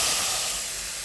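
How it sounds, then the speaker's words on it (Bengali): Spices land in a pan of fried onions in a little oil and give off a brief, loud, bright hiss of sizzling that fades slightly over about a second. "পেঁয়াজটা আমার ভাজা হয়ে গেছে, এই পর্যায়ে আমি মশলাটা দিয়ে দিচ্ছি।"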